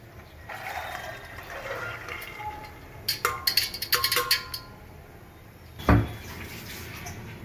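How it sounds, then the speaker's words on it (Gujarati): Water sloshes and splashes as it is drained off soaked black chickpeas, with a burst of dripping clatter midway and a dull thud near the end. "હવે આપણે આ પાણી કાઢી નાખીએ."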